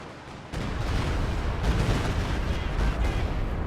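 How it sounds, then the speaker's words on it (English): A Stuka zu Fuss rocket barrage in Company of Heroes 2 strikes as a dense, continuous roar of explosions and rumbling impacts that begins abruptly and stays loud and sustained. "You got Stukas of Fus barrage coming on in"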